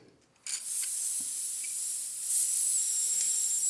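Pressurized gasoline spraying from an unplugged cask inside a laundry building, a sudden loud continuous hiss that bursts on after a brief quiet moment and keeps rushing steadily to the end.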